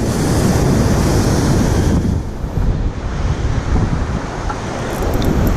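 Ocean waves crash and surge on a shore on a cold, wet, rainy day, a loud roaring wash with heavy wind buffeting the microphone, easing briefly midway before building again.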